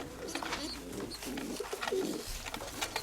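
Pigeons coo steadily and repeatedly in a breeding loft, with grey hens among the birds, the soft low coos overlapping close by with light rustling and no talk.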